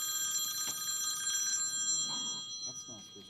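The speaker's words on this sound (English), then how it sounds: "It's a rotary phone up here." An old rotary telephone rings in a board meeting room, its bell sounding as a steady, continuous jangle at moderate distance with faint voices and movement underneath.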